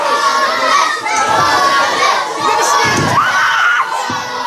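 Crowd at a wrestling show cheering and shouting loudly, with many children's high voices yelling together in a sustained, energetic roar.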